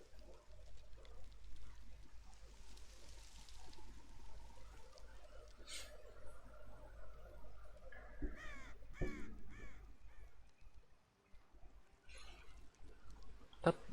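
In the video game Hytale, a dog gives a series of harsh, crow-like caws, several distinct calls spaced over the clip, set against a steady game background with some trickling water.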